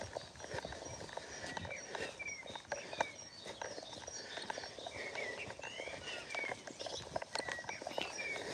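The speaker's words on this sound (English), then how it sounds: "Every so often it's just nice to pause and listen to the bird song, isn't it?" Birds chirp and sing in the background of a morning dog walk, with short whistled calls over constant soft footsteps and rustling, fairly faint and without talking.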